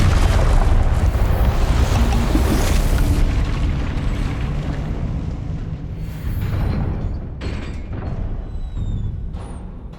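A loud, booming blast from the Confringo fire spell in the game Hogwarts Legacy, opening with a heavy burst and then rolling into a long, dense rumble that slowly fades, with no talking over it.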